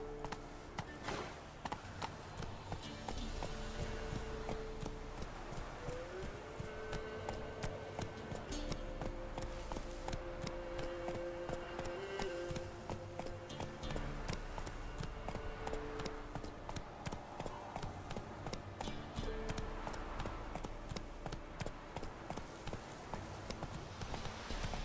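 A horse gallops steadily in The Witcher 3 video game, with rhythmic hoofbeats running close and continuous over a faint musical background for about twenty-five seconds.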